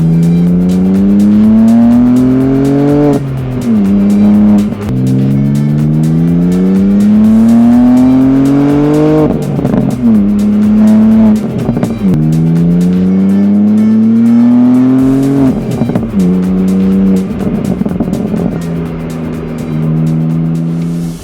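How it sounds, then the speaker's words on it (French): BMW M2 G87 inline six-cylinder with manual gearbox revving hard through several gears, the engine note climbing in pitch then dropping at each shift, loud and close, with no talking. "on prendrait bien une petite dose de boîte mécanique et de ce 6 cylindres dans les oreilles"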